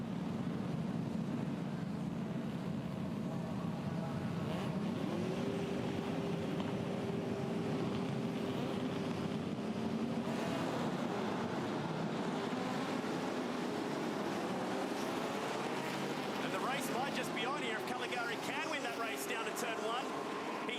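Racing cars from an Improved Production field sit on the starting grid at Hidden Valley, engines idling and blipping in a loud, continuous drone with rising revs, under wind noise and occasional commentary.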